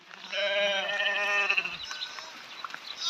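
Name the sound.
lamb bleating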